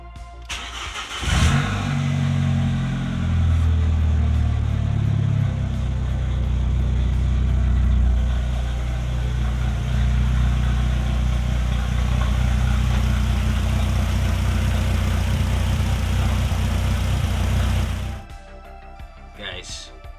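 A VW Caddy Mk2 with a swapped-in 1.8T turbo engine fires up and runs steadily and loudly at close range with a deep, even rumble, then shuts off near the end.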